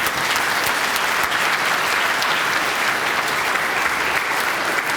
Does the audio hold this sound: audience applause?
yes